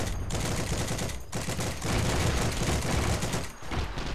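Rapid gunfire from the Heroes and Generals video game, dense overlapping shots and bursts running almost continuously at close range, with a few brief gaps.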